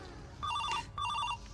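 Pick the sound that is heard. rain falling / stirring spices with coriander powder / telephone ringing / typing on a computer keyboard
telephone ringing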